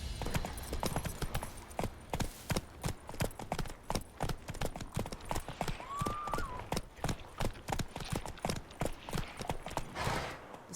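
Steady rhythmic hoofbeats of Roach, a horse galloping in The Witcher, thud evenly and close for the whole stretch, with a brief whistle-like tone partway through and no talking.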